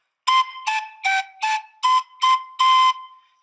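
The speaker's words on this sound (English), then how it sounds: "Listen to these pan pipes." Pan pipes playing, seven breathy tones in a row with short gaps, each note clear and close, the last held slightly longer.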